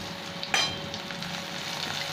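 Tomato and chopped green chilli go into a pan of fried onion, a steady close sizzle with a sharp clink of a utensil near the start, then continued frying alone.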